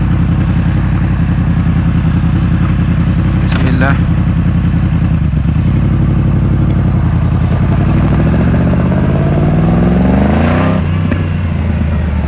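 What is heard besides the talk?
sport motorcycle engine idling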